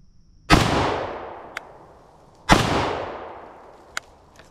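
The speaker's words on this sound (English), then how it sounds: "So let's start out here with two rounds unsuppressed." Two loud unsuppressed shots from a CZ Bren 2 rifle fired slowly into dirt about two seconds apart, each a sharp crack trailing into a long fading echo, with a faint click after each.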